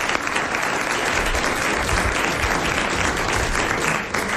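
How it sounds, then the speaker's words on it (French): Studio audience applause on a 1990 French television talk show, a dense, steady wash of clapping that runs loud and unbroken throughout. "On peut l'applaudir pour ça."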